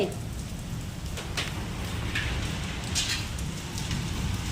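Heavy rain pours down during a strong storm, a steady, dense hiss with scattered louder taps of drops striking hard surfaces nearby.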